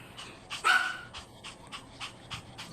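A Shih Tzu pants in quick, breathy bursts close by, with one louder huff early on followed by a steady run of softer pants.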